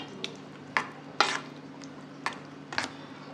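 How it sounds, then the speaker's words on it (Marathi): Cumin seeds crackle in hot ghee for a Marathi cucumber koshimbir tempering, a low steady sizzle broken by several sharp stirring and utensil clinks, close and without talk. "तूप चांगलं तापलेलं आहे। आता मी जिरे घालते।"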